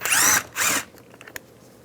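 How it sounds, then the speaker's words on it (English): Two close bursts of a power drill driving a 7mm socket to back out a side mirror screw on a 2015-2020 GMC Yukon, loud and near, each under half a second, followed by faint clicks and a small tap. "7mm socket, take this screw out."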